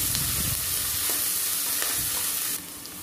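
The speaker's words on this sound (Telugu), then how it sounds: "వెల్లుల్లి అలాగే కరివేపాకు ఇవన్నీ వేసుకొని ఈ ఉల్లిపాయలు కొంచెం కలర్ మారేదాకా ఫ్రై చేయాలి" Onions frying in hot oil with garlic and curry leaves for a Rayalaseema dry mutton curry, giving a steady close sizzle with occasional stirring scrapes, softening slightly near the end.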